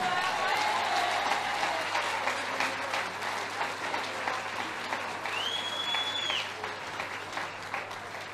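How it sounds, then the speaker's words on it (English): Sustained audience applause at a women's snooker event, the Welsh Classic final, with continuous clapping from a crowd filling the hall, fairly distant and steady, fading slightly toward the end. "one more massive round of applause for your Welsh Classic finalist, Rianne O'Sullivan."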